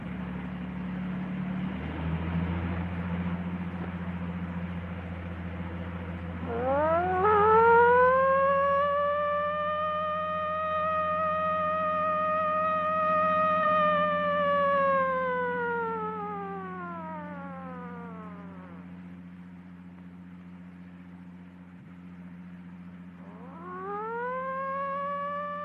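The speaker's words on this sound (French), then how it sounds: "Oui, c'est une sirène." A siren in a 1931 film wails upward into a long held tone, slides back down, then starts rising again, loud and clear over a low hum with no talk.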